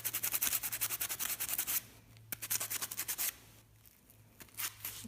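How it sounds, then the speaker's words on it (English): Sandpaper scraping a magnet's surface in quick rhythmic strokes, a burst of rapid rubbing followed by a pause and then more rasping scrapes, close and fairly quiet. "We're going to scrape up the X side a little bit."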